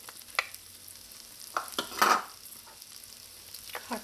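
Onions, chopped garlic and hot pepper sauté in melted butter in a soup pot for Trinidad corn soup, with a soft sizzle under scattered spoon scrapes and one louder stirring burst midway.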